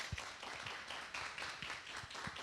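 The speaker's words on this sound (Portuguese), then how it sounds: "Pode aplaudir, gente." Clapping from a Portuguese-speaking church gathering celebrating good news; sparse, fairly quiet applause with a few distinct nearer claps standing out in an irregular rhythm over a soft background of hands.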